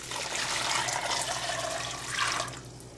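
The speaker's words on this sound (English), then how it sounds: "Then I'm going to cover with water," Water poured from a tap or jug over raw beans, onion and garlic in a cooking pan, a steady splashing rush that swells, peaks again near the end and then cuts off, close and fairly loud with no talk.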